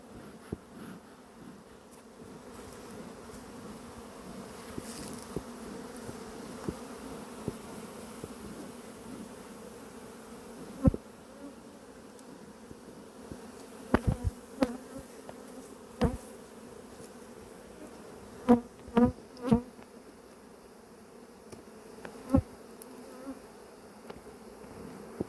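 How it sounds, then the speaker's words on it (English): A swarm of agitated honey bees buzzes at an open hive in a continuous, dense drone, with occasional sharp taps and knocks rising over the hum. "Wow, look at all those bees you got."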